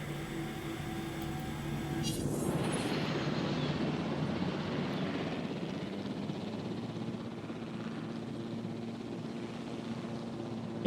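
Helicopter in Jurassic World Evolution heard as a steady, loud rotor and engine drone that swells in after a couple of seconds and holds for the rest, alone with no talk.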